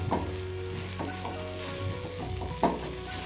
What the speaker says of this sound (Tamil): இதை நல்லா சேர்ற மாதிரி நல்லா கலரி விட்டுருங்க.